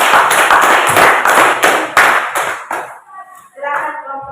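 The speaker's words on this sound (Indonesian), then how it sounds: "Kita beri aplaus dulu untuk kelompok" A classroom group gets a dense burst of applause from students, many hands clapping together for about two and a half seconds before it fades and a voice begins speaking.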